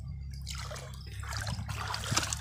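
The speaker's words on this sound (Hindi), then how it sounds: "देख सकते हैं यहाँ पे पैर के पास इसी जगह से पानी निकलता है।" Water trickles and splashes out of the ground at the base of a wall in floodwater, a steady close gurgling dribble over a low constant rumble.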